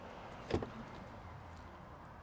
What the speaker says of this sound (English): Lock all the doors.